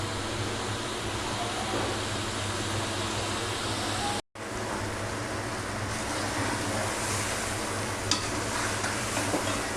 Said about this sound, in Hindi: और अब हम इसकी 10 से 15 मिनट खूब अच्छे से बुनाई करेंगे